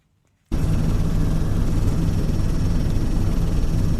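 Loud, steady rotor and engine roar of a helicopter flying over the flooded River Don valley in South Yorkshire, starting abruptly after a brief silence and continuing without a break.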